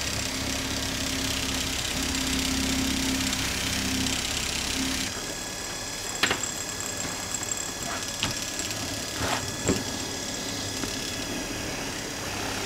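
A desktop mini leather edge burnishing grinder hums steadily with a motor whine for about five seconds, then shifts to a lighter spin with a few sharp scraping contacts, close and moderately loud, with no voices.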